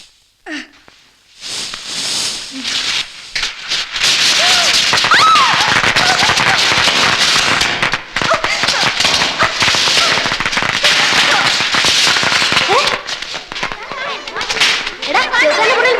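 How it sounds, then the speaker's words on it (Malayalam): Firecrackers bursting in rapid, dense volleys of sharp cracks and pops, loud and close, nearly continuous for over ten seconds with brief gaps. "എന്റെ മുറി പടക്കം പൊട്ടിച്ചത്?"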